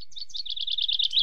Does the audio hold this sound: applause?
no